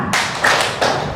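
Classroom clapping game: hands clap in sharp, close strikes, several claps within a second, loud and alone with no voices.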